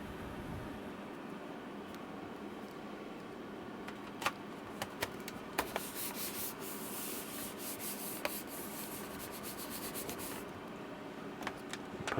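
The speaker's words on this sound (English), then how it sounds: "Clean off the dust bunnies." Dust is wiped off the back cover of a 2012 MacBook Pro as soft, continuous rubbing strokes close by, broken by a few light clicks and taps.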